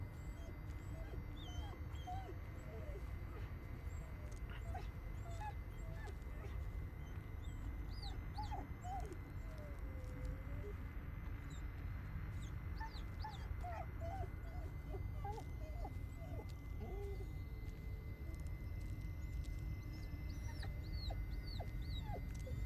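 A dog in the Blair Witch video game whimpers and yips in short, high, whining bursts scattered over a dense, noisy outdoor background. It is fairly faint and keeps going throughout.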